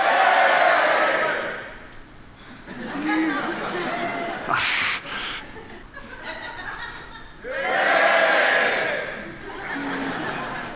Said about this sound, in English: how about if everyone over there shouts?